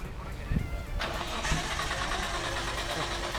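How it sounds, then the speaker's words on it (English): A Nissan S15 car engine cranks repeatedly without catching, a steady mechanical churning with a few louder clunks, close by while people talk over it. "This S15 won't start up."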